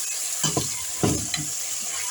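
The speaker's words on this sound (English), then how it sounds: "So now I'm going to be frying my plantain." Steady sizzling of plantain frying in hot oil, with a few louder stirring or scraping bursts near the start and middle.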